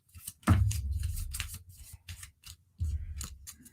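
Tarot cards are shuffled by hand in a few rustling, riffling bursts with short gaps between them, close and crisp with no talking.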